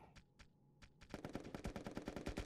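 AK-47 gunfire in the video game Pummel Party: a few spaced single shots, then a rapid, loud automatic burst of fire, with no talking.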